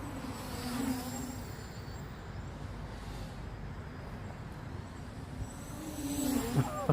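A JJPRO X2 drone flies fast in an outdoor park, its steady insect-like propeller whine carrying at moderate distance over faint road traffic and swelling slightly as it passes closer near the end.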